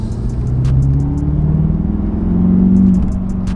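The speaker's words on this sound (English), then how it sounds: "Ooh, that M Performance exhaust sounds deep." A BMW M5 with an M Performance exhaust revs close by, giving a deep, steady engine rumble that swells twice in loudness with no voices.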